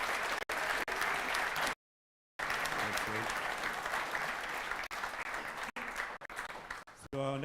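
Conference audience applause at PHP UK 2023 in the Queen Charlotte room, a steady patter of clapping broken by a brief silent gap, with a voice speaking over it near the end.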